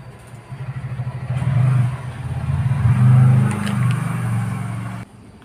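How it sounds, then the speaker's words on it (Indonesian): An aquascape aquarium protein skimmer runs after being switched on, giving a steady, close buzzing motor hum that swells and eases before cutting off near the end. "Setelah skimmernya dihidupkan,"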